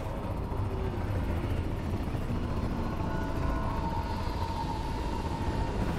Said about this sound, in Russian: Выслали четыре вертолета НСШ а с замаскированными сигнатурами.